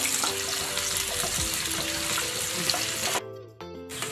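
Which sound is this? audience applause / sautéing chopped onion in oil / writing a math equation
sautéing chopped onion in oil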